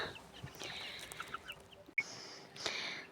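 Young chickens in a small enclosure make soft, scattered clucks and peeps at night, a steady low chatter with a brief sharp click midway, fairly faint and close.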